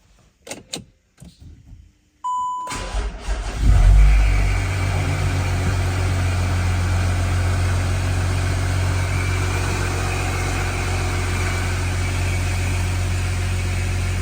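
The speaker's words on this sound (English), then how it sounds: "Replace the filler cap and run the engine for a few minutes." A VW Touareg 3.0 V6 TDI diesel, fresh from an oil change, starts after a few faint clicks and settles into a steady, close, loud idle with a low rumble that continues unbroken.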